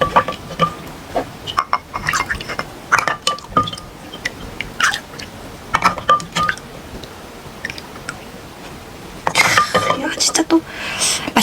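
Someone chewing spicy kimchi and boiled pork with makgeolli, giving close, wet bites and mouth sounds in irregular bursts, with light clinks of dishes and a louder crunchy stretch near the end.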